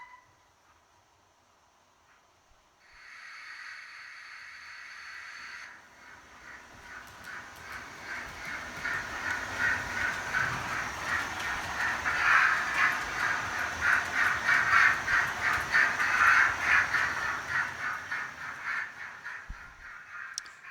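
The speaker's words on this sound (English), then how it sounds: "can see coming up the hill here the return southbound fish train" A returning southbound fish train on a model railway climbs a hill. After a brief steady tone, the chuffing and rail clatter build from faint to a loud rhythmic run, then ease off slightly.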